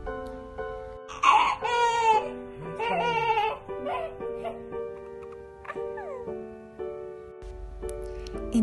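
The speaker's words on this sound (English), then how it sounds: "baby is a newborn that tries to communicate to people with crying and cooing" A newborn baby cries in several wailing bursts over steady background music, trailing off into softer whimpers.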